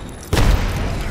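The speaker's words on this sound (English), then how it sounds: "Throwing through my grenade." A grenade detonates in a shooter video game, one sudden heavy boom that leaves a rumbling tail fading briefly afterward, heard alone without talk.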